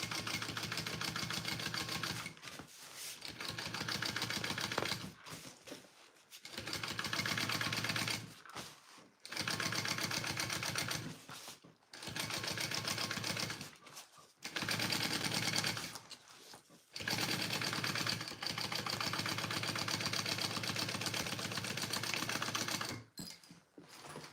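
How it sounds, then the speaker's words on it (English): Sewing machine top stitching the bottom panel of a Rick Rolltop Petite backpack, long runs of fast, even needle clatter and motor hum, stopping briefly every few seconds before starting again, close and steady. "So I'm top stitching along this bottom piece here, right?"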